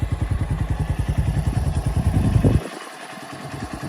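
A Keeway Cafe Racer 152 motorcycle engine runs close by with a fast, even, thumping single-cylinder beat, then cuts out abruptly, leaving a quiet low hiss.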